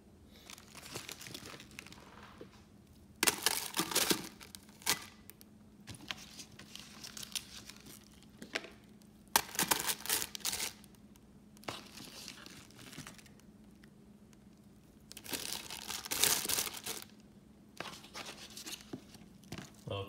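Plastic wrapping crinkles while a whole duck is prepared for the crock pot. It comes as several short, crisp bursts of rustling and crumpling separated by quieter pauses, all faint and close.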